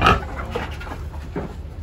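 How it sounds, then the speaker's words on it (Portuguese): A pig grunts at close range on a farm where an ox cart is in use, giving a few rough, low grunts over a dusty outdoor background. "O porco também quer comer."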